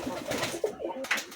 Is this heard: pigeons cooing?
yes